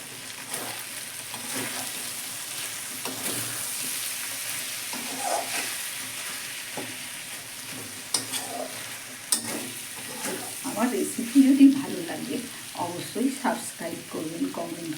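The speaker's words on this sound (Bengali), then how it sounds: "এবার একটুখানি সরষের তেল দিয়ে নেড়ে চেড়ে বানাবো" Hilsa fish in a kadai with raw mustard oil being stirred: a steady low sizzle under scraping spatula strokes that get livelier and louder near the end, with no talking.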